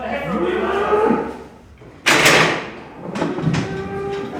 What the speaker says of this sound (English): Is this a Luing beast coming?